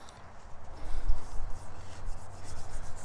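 Finish being rubbed by hand onto a wooden gunstock, a close, soft, uneven rubbing and scuffing that swells and fades over a few seconds, with no voices.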